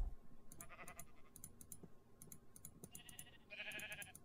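Sheep in the Minecraft video game bleat repeatedly in short, bright, overlapping calls, with a louder pair of bleats near the end over faint background noise.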